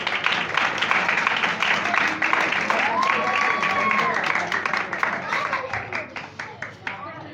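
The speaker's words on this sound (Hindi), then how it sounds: "मैं चाहूँगा कि आप सब भाई सब के लिए जोरदार तालियां बजाएं।" Sustained, loud applause from a church congregation at a Christmas program, dense clapping filling the space throughout and thinning toward the end, with a faint whistle or voice briefly rising above it.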